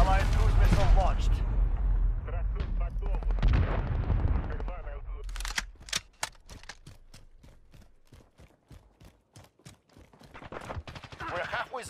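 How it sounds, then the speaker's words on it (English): Call of Duty Modern Warfare game audio with loud explosive impacts and rapid gunfire bursts from a cruise missile strike, loudest at the start, then sharp repeated cracks while a voice speaks. "Allied cruise missile launched."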